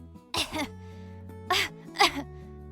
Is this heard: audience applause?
no